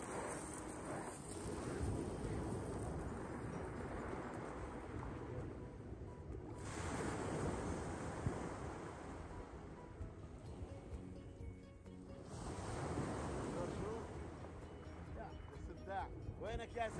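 Sea waves rolling onto Tiwi beach in Oman, heard as a continuous broad washing surge that swells and eases in slow cycles, with gusty wind buffeting the microphone throughout.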